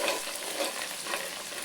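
Ginger garlic paste frying in a hot pan, a close, continuous crackling sizzle with light stirring, steady and bright with no voices.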